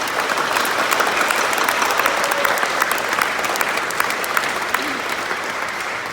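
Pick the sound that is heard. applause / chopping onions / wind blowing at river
applause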